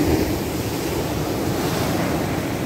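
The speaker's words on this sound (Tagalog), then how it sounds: "Very strong the sound of the waves." Strong high-tide waves at Galas Beach make a steady, loud wash of surf. It mixes with wind rumble against the microphone and continues without a break, with no voices.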